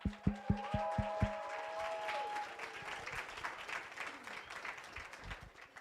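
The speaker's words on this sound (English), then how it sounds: "We're going to give them a very loud round of applause every time someone comes up." At a demo day event in Patagonia, a short run of evenly spaced electronic tones gives way to an audience clapping in a practice round of applause that gradually thins out.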